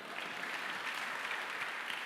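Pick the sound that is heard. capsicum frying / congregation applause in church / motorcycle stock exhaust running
congregation applause in church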